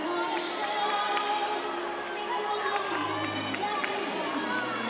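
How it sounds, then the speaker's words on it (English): Gymnastics teammates at a college meet between Alabama and Boise State cheer loudly from the sidelines, a steady wash of crowd noise and shouting with arena chatter throughout. "Her teammates are very vocal over there on the sidelines. You can hear them cheering her on."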